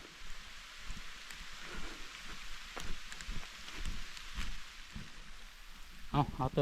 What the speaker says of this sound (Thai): ฝนก็ตก บัดนี้